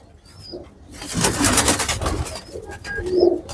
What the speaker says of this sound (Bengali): একটা গরম ব্লাডের কবুতর দেখাই